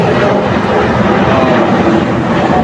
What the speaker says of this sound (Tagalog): may aeroplano na naman dumadaan. Philippine Airlines yata yan.